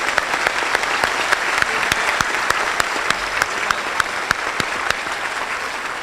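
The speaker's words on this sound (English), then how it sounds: "How about a round of applause for our community leaders?" An audience at the 2018 USF Brunch on the Bay applauds its community leaders with a dense, steady round of clapping, a few sharper individual claps standing out throughout.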